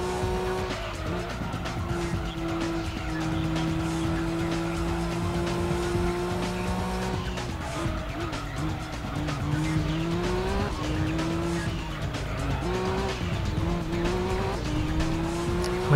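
Race cars in the video game Gran Turismo 2 rev and shift continuously, engine tones rising and falling in steps alongside repeated tire squeals, loud and close without talk.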